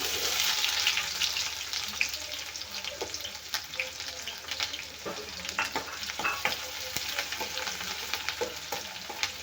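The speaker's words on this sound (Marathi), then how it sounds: "कांदा छान लाल होईपर्यंत भाजूया" Onion fries in hot oil with mustard seeds and cumin in a steel kadhai, giving a continuous close sizzle broken by scraping stirs.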